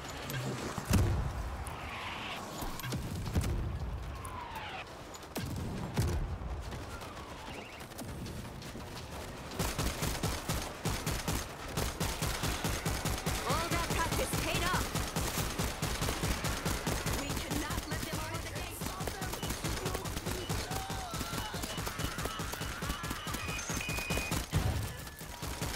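Heavy weapon firing in World War Z: Aftermath, long stretches of rapid, loud automatic gunfire that build after a few scattered shots and keep hammering steadily.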